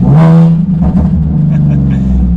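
A Nissan 370Z Nismo engine revs up loudly and drops back, with a deep throaty exhaust note through a muffler delete and brief rev-matching blips between shifts, close by.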